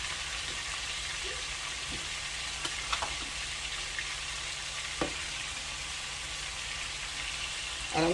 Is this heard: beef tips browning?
yes